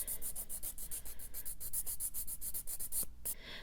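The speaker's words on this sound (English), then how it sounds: "So I will sand it until it all looks like almost like frosted" A file sanding gel polish on a fingernail in quick, steady back-and-forth rasping strokes, close and fairly quiet, with a brief pause near the end.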